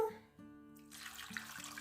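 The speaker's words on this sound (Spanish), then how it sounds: "le voy a poner otros 300 mililitros de agua" Water poured into a pot of sweet potatoes, a short splashing pour that starts partway through and runs to the end, close and moderately loud.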